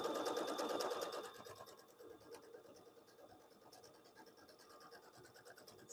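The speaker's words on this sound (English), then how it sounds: "Gonna stitch this awesome thing together." A sewing machine stitches in a fast, even rhythm, louder at first and then continuing more quietly up close.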